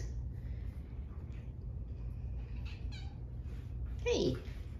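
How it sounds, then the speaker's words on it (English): A kitten meows once near the end, a short rising-then-falling cry over a steady low background rumble in a room with foster kittens, with faint people talking at moments. "There's a kitten."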